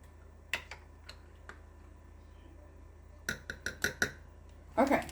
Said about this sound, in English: I'm going to make sure I give it a really good stir